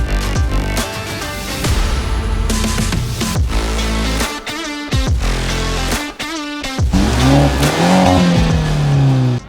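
A 2017 BMW 330i M Sport with a roughly 250 bhp four-cylinder petrol engine revs hard, loud climbing pitches broken by sharp gear changes and brief dips, repeated several times.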